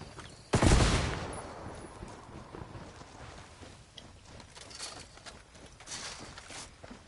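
Gunfire in the video game Ghost Recon Wildlands with a low-recoil gun: one sharp, loud shot opens, followed by a quieter, ragged spatter of distant shots and impacts that rattle on at lower level.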